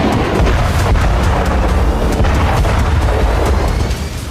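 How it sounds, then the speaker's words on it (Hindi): Artillery shells and multi-barrel rocket launcher explosions in the Nagorno-Karabakh war merge into a loud, continuous rumbling roar of booms with no distinct gaps, dense and heavy throughout. "तोप से अंधाधुंध गोले बरसे, मल्टी बैरल रॉकेट लॉन्चर के धमाकों से काराबाख की बस्तियां सहम गईं।"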